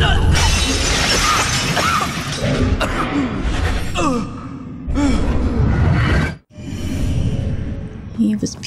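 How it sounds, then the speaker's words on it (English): Glass shatters in the video game Murdered: Soul Suspect at a gas station car crash scene, a loud sustained crashing and breaking texture with several bursts and a brief silent gap, with voices gasping and talking over it. "What's the broken glass coming from, though?"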